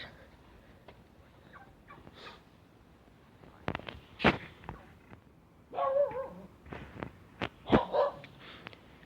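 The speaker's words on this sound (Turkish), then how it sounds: "Orada da yine bir sürü köpek var." Several dogs barking at a distance, scattered single and double barks over quiet outdoor background.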